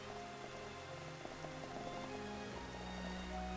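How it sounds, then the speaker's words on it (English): Rain falls steadily outside a window as a soft, continuous patter and hiss on surfaces, faint and even throughout with no voices. "just the sound of the rain"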